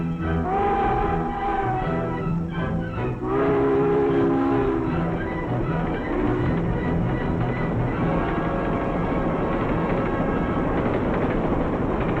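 A train rumbles past with a steady, continuous roar of wheels and cars, loud and close throughout, with a brief tonal whine early on.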